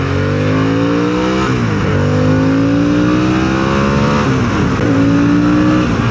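A 2025 Harley-Davidson Sportster S motorcycle engine revs hard and climbs in pitch through several gear shifts, loud and close, with no voices.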